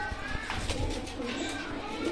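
Rampuri Punjabi pigeons coo softly in a short, low burst, fairly close, with faint background voices and bustle around them.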